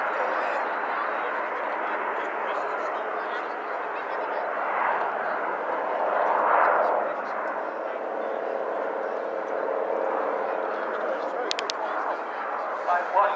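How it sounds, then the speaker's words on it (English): Avro Vulcan XH558 bomber running in for its airshow display, a steady broad jet roar that swells slightly midway, with a commentator talking over it. "The Avro now, Hanson climbing away, and the Vulcan will run in to commence its display."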